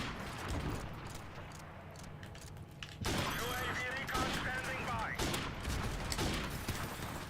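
Bursts of rapid video game gunfire start abruptly midway and crackle on in dense volleys after a quieter stretch of background game noise.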